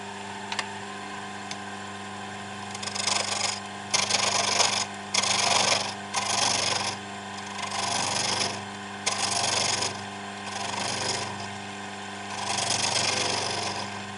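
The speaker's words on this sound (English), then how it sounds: "I'm going to use a spindle gouge because I'm not Steve Jones." Spindle gouge cutting wood on a lathe while turning a Star of David piece, a steady motor hum under repeated rasping scrapes that come in bursts of a second or two, close and moderately loud.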